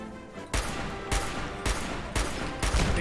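Video game gunfire: five loud, sharp bursts spaced roughly half a second apart, each a broadband crack with a short decay, standing out clearly against a steady background hum, with no talking.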